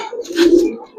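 A Giribaz silver pigeon gives a single close, soft, throaty coo lasting under a second, swelling in the middle and tapering off.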